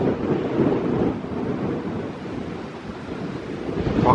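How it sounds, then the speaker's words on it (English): Strong wind gusting across an open hillside at Whipsnade zoo, buffeting the microphone in a steady, loud roar with rumbling low-end pressure and surging swells throughout, no voices present. "Sorry if the wind's blown about a bit, it really does wail about around this area on this side of the hill."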